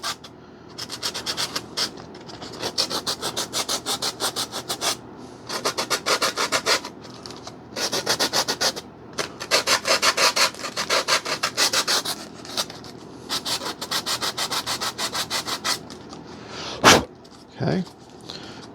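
Repeated rhythmic scraping strokes remove excess paint from the surface of a Dynam ME 262 V3 RC jet model, coming in close bursts of rapid rasping with short pauses, followed by a couple of sharp knocks near the end.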